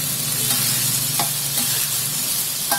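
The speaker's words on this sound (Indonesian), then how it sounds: "Kali-kali kita aduk ya friend, biar nggak gosong." Chilies frying in a pan for bakso sambal are stirred with scraping strokes over a constant loud sizzle and crackle.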